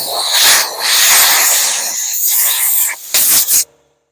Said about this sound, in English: I'll blow it out with the air compressor